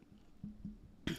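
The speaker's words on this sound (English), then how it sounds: "Just like clearing my throat for perpetually over here." A man clears his throat in a few low, rough bursts, then gives one sharper cough at the end, close and quiet with nobody speaking.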